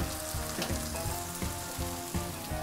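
Mushrooms tossed into a pan of fried onion with cracklings sizzle loudly and steadily, with regular stirring scrapes recurring about every half second close by, no talking.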